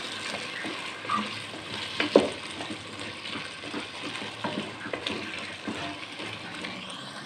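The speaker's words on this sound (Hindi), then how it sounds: "जब तक हमारा आलू जो है वो फ्राई होता है।" Potatoes fry in a pan for aloo dahi salan with a continuous close sizzle, along with occasional scraping and clinking as they are stirred.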